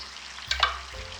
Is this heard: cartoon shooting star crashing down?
no